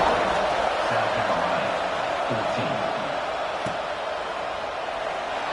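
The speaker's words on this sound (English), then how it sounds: "this crowd is buzzing after that last score" A football stadium crowd in the EA Sports College Football 25 video game keeps up a broad, steady murmur and roar after a score, with a few faint thumps.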